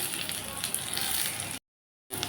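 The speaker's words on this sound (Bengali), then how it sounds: "এখন আমি মশলাটাকে ভালো করে কষিয়ে নেব।" Spices with slit green chillies and a little water sizzling in a pan, a soft steady crackle and hiss that cuts out briefly before resuming.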